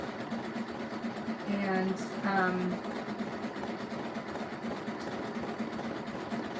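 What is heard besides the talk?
sewing machine stitching a rope basket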